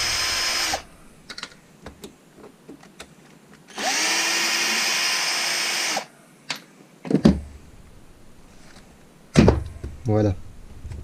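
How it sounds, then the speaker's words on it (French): A power driver whirs in two sustained bursts between taps, clicks and rattles while shims and wishbones come off an Arrma Typhon RC car, with someone talking nearby. "on enlève les cales de train"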